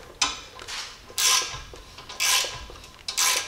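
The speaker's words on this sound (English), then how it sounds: "I'm gonna snug this center bolt down right here." A ratchet tightens the center bolt on a Jeep leaf spring during an add-a-leaf lift install, giving three bursts of raspy clicking separated by short pauses, close and fairly loud.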